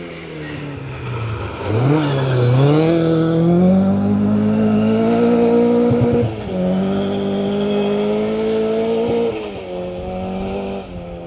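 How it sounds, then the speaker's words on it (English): A Ford Mark II Escort rally car on a gravel stage slides around a hairpin, its engine revving hard and rising and falling through the gears close by, with tyre scrabble beneath. "Tommy and Simon Pickard then in the Mark II Escort, just dancing that back end of the car around this hairpin"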